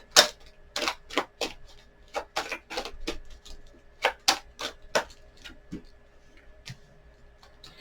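Tarot cards pulled one by one from the deck make crisp, close snaps and flicks in irregular bursts. Short quiet gaps fall between them and no one speaks.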